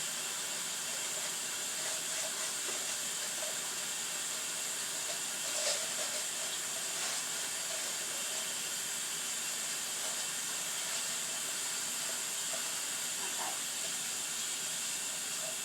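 Water runs steadily from a tap while a soaping container is rinsed out, a constant broadband hiss with faint clinks now and then, close and even throughout with no talk.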